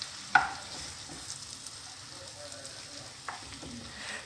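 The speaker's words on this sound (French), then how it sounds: "j'ajoute les scampi qu'on vient de mettre les épices dessus. Je les fais revenir comme ça" Spiced scampi sautéing in a pan, with a soft continuous sizzle, a sharp clatter near the start and another light knock later, heard close.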